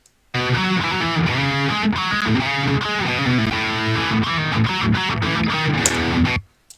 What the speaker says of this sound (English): Alongside those, there's a melody guitar, which sounds like this.